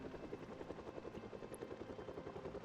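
In the zombie survival game Project Zomboid, a helicopter flying overhead produces a steady rhythmic rotor thudding, faint and distant-sounding, pulsing evenly through the whole stretch with no talk.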